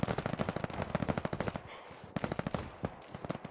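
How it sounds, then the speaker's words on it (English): Stray machine-gun fire in the World War II video game Hell Let Loose rattles in fast, steady bursts, pausing briefly before another long volley, loud and with no talking. "that's random bullets"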